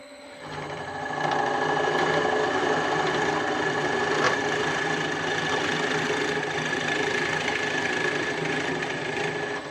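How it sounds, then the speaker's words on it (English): A wood lathe drills a hole into a turned wooden kitchen roll holder blank, a loud, steady mechanical whir and rattle that starts about a second in and holds without speech. "I'm going to drill that, and what I want to do is I want to drill a hole that is as close to that but smaller"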